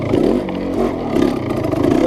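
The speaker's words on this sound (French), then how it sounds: "le typique du Merlin, gros moteur, hein, ça respire un peu fort même" A big-engined Merlin trial motorcycle breathes hard through a rough section of a classic trial, its loud low engine note pulsing unevenly with clattering and scraping over about two seconds, no talk.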